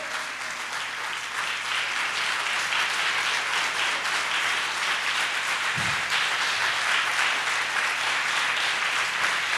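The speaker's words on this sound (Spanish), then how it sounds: "dale un aplauso a Él con" A church congregation applauds during a Spanish-language worship service, sustained dense clapping from a large crowd filling the room at a steady level, with no talk over it.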